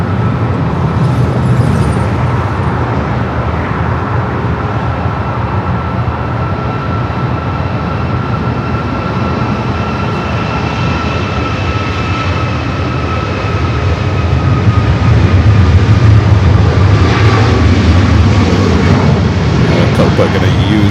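Aircraft at Los Angeles LAX airport, a loud, continuous jet roar that holds steady and swells slightly toward the end, accompanied by faint radio chatter.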